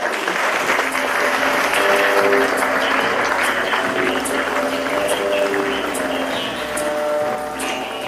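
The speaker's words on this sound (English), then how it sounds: "please welcome with an applause, Haresh Mehta of China" An audience at a print industry summit panel claps steadily to welcome a speaker, a broad, continuous wash of applause that holds evenly for several seconds with little talk.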